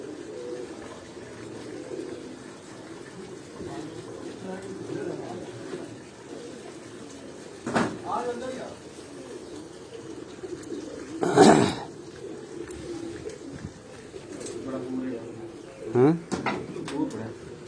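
Pigeons settle on a rooftop and coo softly in low, throaty bursts, with a couple of clearer calls standing out against a quiet outdoor hush. Brief flutters and other noises break in now and then.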